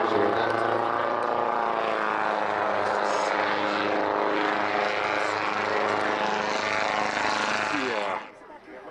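An airplane flies overhead with a loud, steady, droning engine roar that holds for about eight seconds before dropping away sharply, with voices faintly beneath it.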